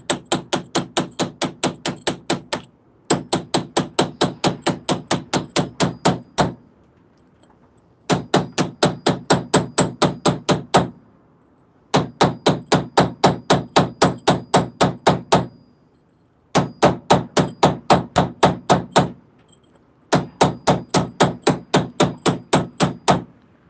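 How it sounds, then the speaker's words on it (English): A hammer drives a chisel to chip material off a piece in a forge workshop, striking in rapid, evenly spaced bursts of a dozen or so blows each, separated by short pauses, loud and close with no talk. "I wish I had a better chisel for this, but it's what I got, so it's what I'm working with."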